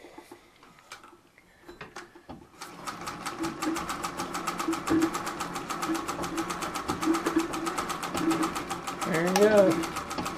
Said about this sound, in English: This will be the first time I'm actually going to kick off reverse on this thing during the middle of a stitch and just see what we get.